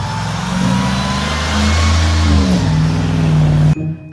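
A school bus engine runs steadily with a mid-pitched rumble, then its pitch rises and falls as it revs. The sound stops abruptly near the end, leaving a short fading tail.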